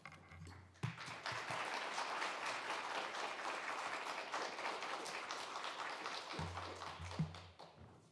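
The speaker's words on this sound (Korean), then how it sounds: "환영합니다라는 박수로 우리가 박수로 맞이하도록 하겠습니다" Congregation at a church service applauds to welcome a missionary, a dense, sustained wash of clapping from many hands that holds steady for several seconds before tapering, with no speech.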